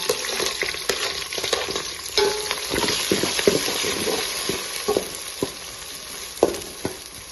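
Chopped onion and green chillies fry in hot oil in a pan for a tomato bath, with a steady close sizzle and scraping stirs and clinks of a spoon throughout, no voices.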